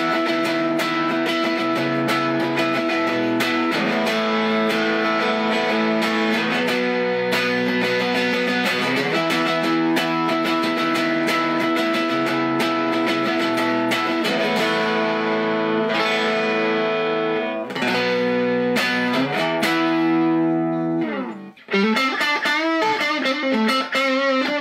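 Electric guitar driven through a Dutch Screamer overdrive pedal rings out with warm, gritty sustained chords and runs, dense and continuous, ending in a quick flurry of bent notes, with no voices.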